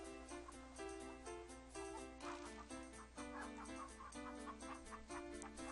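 Chickens cluck as they are fed in the King's Quest 3 video game (To Heir is Human Redux), a steady stream of clucking mixed under continuous, loud game music throughout.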